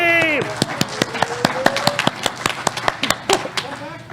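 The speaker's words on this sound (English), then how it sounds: "that's like the third round of applause I've given myself today" Sharp, evenly spaced claps ring out at a brisk steady beat at a security conference talk, sounding like a few hands rather than a full crowd, while someone speaks over them.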